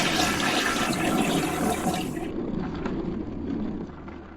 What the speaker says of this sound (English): lavatory is to flush the toilet.